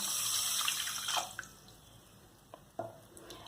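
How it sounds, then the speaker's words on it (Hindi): Water pours into a large open pan with sugar for a Shahi Tukda syrup, a steady close splashing stream that tapers off, followed by a few faint drips and clinks. "इसमें हम डालेंगे शुगर, साथ ही हम इसमें डालेंगे पानी"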